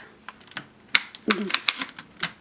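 Clicks and plastic snaps from a Dyson V8 Absolute cordless vacuum as its dust bin latch is lifted and the bin opens, a quick series of sharp, close taps and rattles with some voice mixed in.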